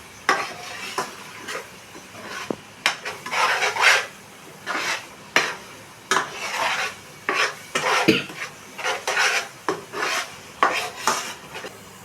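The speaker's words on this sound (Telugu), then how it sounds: "కారం, బిర్యానీ మసాలా మొత్తం వేసేసి ఒకసారి కలిపేసుకుందాము." Chili powder and biryani masala are stirred in a pan for khuska rice: a spoon scrapes and clatters against the metal in repeated rhythmic strokes over a faint sizzle, close and fairly loud, with no talking.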